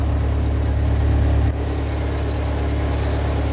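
A tractor engine idling close by, a steady loud low rumble that drops slightly in pitch partway through and runs on unbroken, with no voices.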